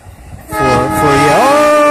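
Train horn sound effect, a loud sustained blaring tone that cuts in after a quiet start and holds, its pitch bending upward partway through.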